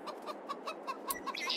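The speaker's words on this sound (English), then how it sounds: "Chickens are doing well." Chickens cluck in short, repeated bursts in the Farming Simulator 22 farm game, with a steady rhythm of soft calls and a brighter squawk near the end.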